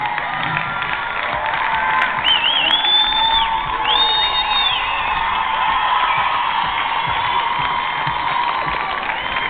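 A large audience at a Mozart l'opéra rock show cheers and applauds in a dense, continuous roar with whoops and shouts, distant and sustained throughout, with faint whistles rising above it.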